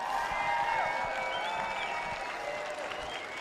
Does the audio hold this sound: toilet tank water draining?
no